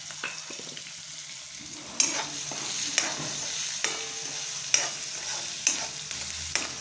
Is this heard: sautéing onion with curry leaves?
yes